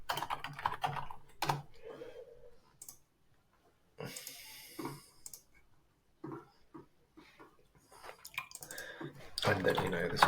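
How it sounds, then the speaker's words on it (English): Typing on a computer keyboard, quick clusters of sharp clicks at close range, broken by pauses and partly interleaved with someone talking. "That typing is horrible."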